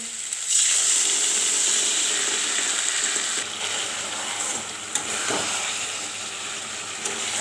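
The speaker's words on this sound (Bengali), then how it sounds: "অল্প জল দিয়ে দিব" A little water poured into a pan of cooking pumpkin curry with fish head, setting off a loud sudden hiss of steam and sizzle that settles into a steady bubbling fry.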